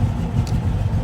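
A street legal race car engine runs close by with a steady, deep rumble throughout, showing no clear rise or fall in revs.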